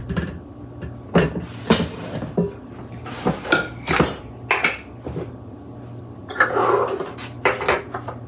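Pumpkin cookie batter is mixed in a bowl, with repeated clinks and scrapes of a utensil against the dish in uneven bursts, close and fairly loud, with no talking.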